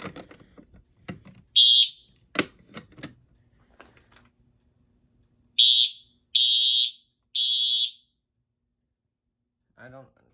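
Several electronic beep-buzzes from a Simplex 4100 fire alarm panel walk test sound in bursts, one short then three longer tones, loud and near, between clicks and handling noises.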